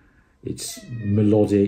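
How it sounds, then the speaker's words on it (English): A pet cat gives a short meow under a person's melodic speaking voice, the cat's high tonal call brief and close amid the talk. "that's my cat"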